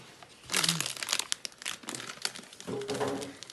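A 4-kilo bag of sugar is crumpled and crinkled up close, in several loud bursts of rustling across the clip, during preparation of sellou.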